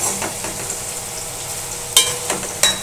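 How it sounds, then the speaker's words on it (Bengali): Potatoes sizzle steadily in a hot pan for aloo posto, with a spatula scraping and stirring a few times over the constant frying hiss. "এবার ভাজবো আলুগুলো"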